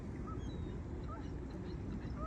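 Ducks on a park pond quack faintly among other birds, half-buried in steady low wind and water rumble, with a few thin calls scattered through.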